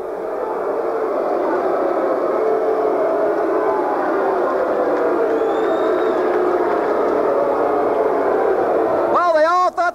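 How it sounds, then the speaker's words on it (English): Arena crowd at a 139-pound amateur boxing final reacting loudly to a split decision, a dense sustained roar of voices throughout, with a rising siren-like wail or whistle near the end. "Listen to the crowd."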